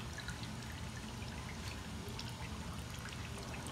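Liquid trickles and drips steadily as fermented rice mash is squeezed through a bag to make traditional sake, a close, continuous wet patter with scattered splashy drops.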